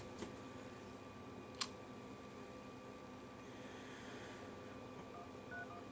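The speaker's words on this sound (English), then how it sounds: "we're going to go ahead and call this phone number real quick." Touch-tone telephone keypad dialing a phone number, a couple of short sharp tones heard faintly over steady background hiss.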